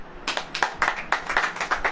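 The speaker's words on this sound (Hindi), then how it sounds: "ताली बजाएं।" An audience claps together during a Hindi Christian church service, a burst of close, fairly loud hand claps in an uneven rhythm lasting about two seconds, with no talking over it.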